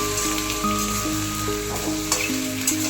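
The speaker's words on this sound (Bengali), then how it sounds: "এরপর এটাকে পেঁয়াজের সঙ্গে ভালো করে ভেজে নেব, মানে চিকেনগুলোকে ভালো করে ভেজে নেব।" Chicken pieces frying with onions over a high gas flame, giving a steady close sizzle and crackle throughout with faint stirring, no talk.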